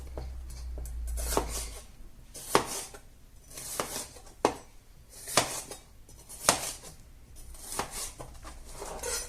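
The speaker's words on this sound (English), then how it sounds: "I'll just chuck them in this bowl" Potatoes dropped into a serving bowl a few at a time, giving a series of separate knocking thuds and clatters spaced out over several seconds, close and without talk.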